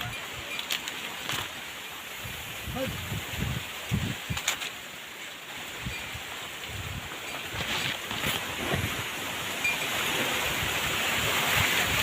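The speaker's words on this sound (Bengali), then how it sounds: "বাবা কত জোরে হাওয়া হচ্ছে" Strong storm wind gusting around a small banana tree with ripe fruit, a steady broadband rush with louder bursts that builds toward the end.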